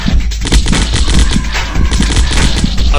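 Rapid assault rifle gunfire in the zombie shooter game Zombocalypse, loud and continuous bursts of dense shots with no talking.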